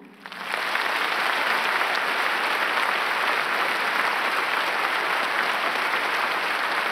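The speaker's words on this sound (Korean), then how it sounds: "큰 박수 부탁드립니다" An audience at a concert in Pyongyang applauds, sustained and even clapping that swells in quickly and holds steady, filling a large hall.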